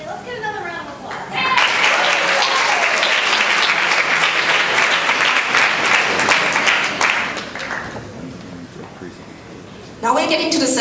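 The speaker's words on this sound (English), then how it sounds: "Let's get another round of applause." Sustained audience applause fills a high school awards ceremony hall, swelling after a brief spoken introduction and holding steady for several seconds before thinning out, with a voice returning at the end.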